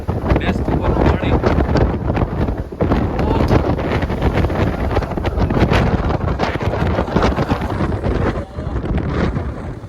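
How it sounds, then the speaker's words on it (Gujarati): Strong wind roars across the open deck of a RoRo ferry at sea, buffeting close and loud in continuous rumbling gusts throughout. "અવાજ અને પવન જો કેટલો પવન છે"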